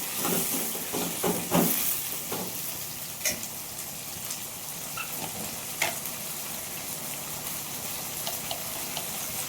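Tomatoes cooking with rock salt in a pan give a soft, steady sizzle and hiss up close, with a few clinks and scrapes of stirring early on and no one talking.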